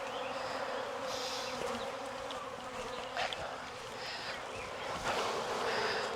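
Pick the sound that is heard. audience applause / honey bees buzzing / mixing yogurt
honey bees buzzing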